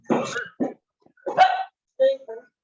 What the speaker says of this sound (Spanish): a ver si me hacen callar ese perro